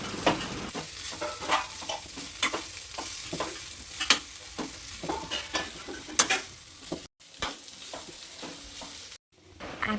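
Gobi fried rice is stir-fried in a pan with a continuous sizzle. A spatula scrapes and knocks in a busy, irregular rhythm, and two brief dropouts break the sound near the end.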